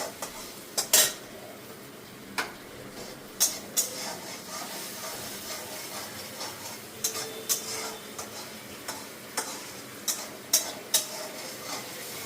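A utensil stirs tomato masala in a cooking pan while making paneer curry, giving sharp metallic scrapes and taps at irregular intervals over a faint sizzle, close and fairly quiet with no talk.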